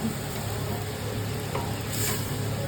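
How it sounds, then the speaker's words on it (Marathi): Spices are stirred into veg pulao in a hot pan, with a steady sizzle and frying hiss throughout and a few scraping strokes of the spoon, heard close up with no talk. "व्यवस्थित स्टर करते, मिक्स करते"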